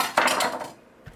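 A knife cuts peeled carrots in half on a board for a pot roast, making a couple of quick, close, sharp clunks followed by a brief fading scrape, with no voices.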